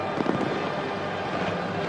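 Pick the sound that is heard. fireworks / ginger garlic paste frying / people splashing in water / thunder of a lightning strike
fireworks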